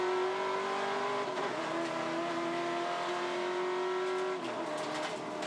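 A V8 touring race car engine at Pukekohe roars steadily at close range, then drops in pitch as the driver downshifts to second gear for a slow corner, with no talk.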